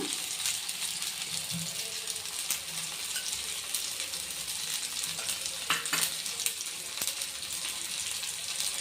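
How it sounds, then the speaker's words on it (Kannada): Fish frying in hot oil gives a steady, even sizzle throughout, with faint occasional clicks and pops and no talking. "ಫಿಶ್ನ ಈಗ ನೀಟಾಗಿ ಫ್ರೈ ಮಾಡ್ಕೊಳ್ಳೋಣ"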